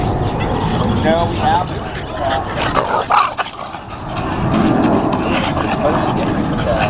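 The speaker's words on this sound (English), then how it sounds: "the puppy's having fun." A puppy at a park yips and whimpers in short bursts, loud and close, with people talking over and between the cries.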